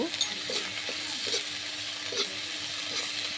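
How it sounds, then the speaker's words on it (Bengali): Onion paste and garlic paste fry in a pan with fried onions, a soft steady sizzle close by, broken by a few light stirring scrapes and faint clinks. "এর ভিতর দিয়ে দিচ্ছি পেঁয়াজ বাটা এবং রসুন বাটা। এটাও একটু ভেজে নেব"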